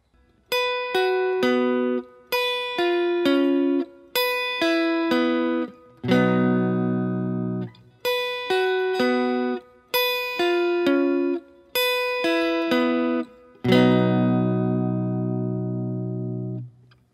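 Guitar picking pattern for a song: quick runs of plucked single notes, each phrase ending on a loud ringing strummed chord, repeated twice, close and clear with no voice.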